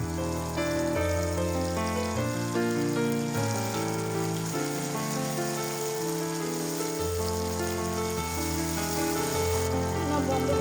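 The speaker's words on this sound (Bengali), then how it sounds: "সামান্য ভেজে নিয়ে হাফ কাপ পরিমাণ টমেটো কুচি অ্যাড করে দিচ্ছি বেটে রাখা মশলাগুলো অ্যাড করে দিচ্ছি" Chopped tomato and ground spice paste fry in oil for a fish curry, producing a steady, dense, close sizzle that sounds like rain on a surface and carries on evenly throughout, with no talk.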